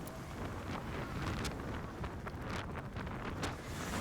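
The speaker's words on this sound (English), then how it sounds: "Get a really good sense of how much more or less wind I am dealing with today" High wind blowing outdoors, a constant loud rushing roar buffeting the microphone with gusty bursts, no talking.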